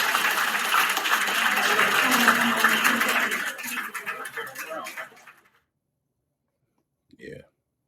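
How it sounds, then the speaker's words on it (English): Hands clapping for about five seconds in a dense, sustained burst, loud and close, fading out before a brief pause and a short voice at the end. "I'm clapping for myself"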